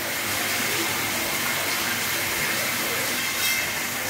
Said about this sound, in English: This is the water flow from the half inch valve when the 1 inch valve is switched off.